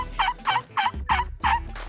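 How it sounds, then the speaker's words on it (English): A latex tube turkey call fitted with a horn sounds five loud, sharp yelping notes in quick even rhythm, close and raspy like a hen turkey. "It's got latex, gives you that good mouth call latexy sound, but with that horn on it, you can really get some volume out of this."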